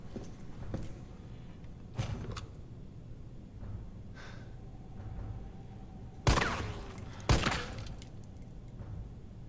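Several sharp gunshots blast at a television inside a Resident Evil 3 Remake game level, two loud reports standing out midway over a low ambient hum, with a few fainter impacts earlier and no talking.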